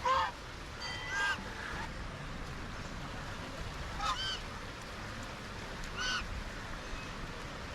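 Ducks or geese honk in a few short calls across an outdoor temple lake, moderately near, over a steady hiss of open-air background.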